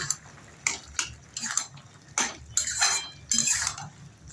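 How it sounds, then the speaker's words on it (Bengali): A spoon scrapes and clinks in a pan while vegetables are stirred with a sesame and poppy seed paste. The scrapes come in short irregular bursts, close and fairly quiet. "এবার আমি এটাকে একটু ভালো করে সবজির সঙ্গে মাখিয়ে নিচ্ছি"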